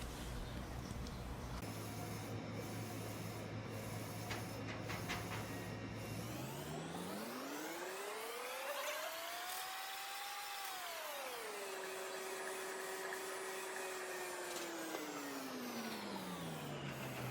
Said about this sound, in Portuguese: eu vou começar a imprimir, vocês vão ver a impressão